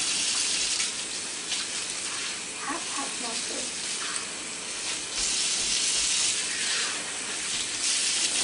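Tap water running steadily for handwashing, a continuous hissing gush close by, while voices talk over it.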